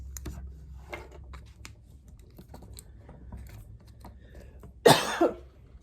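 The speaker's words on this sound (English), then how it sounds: "I haven't coughed all day and I start talking and then I start coughing." A woman coughs in a short harsh burst near the end, loud and close, after a stretch of quiet room noise with small clicks and handling sounds.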